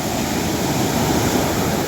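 Ocean surf at a beach, with strong waves, crashes in a loud, continuous wash of broadband noise, close and unbroken, with no voices.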